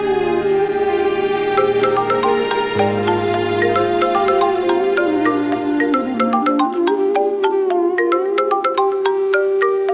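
A phone ringtone rings out loud and close, a bright looping electronic melody of quick repeated notes sounding steadily and alone throughout.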